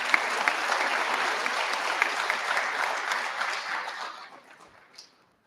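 An audience at a regional science and engineering fair applauds the volunteer mentors, a steady wash of many hands clapping that holds for several seconds before tapering off into a few last claps.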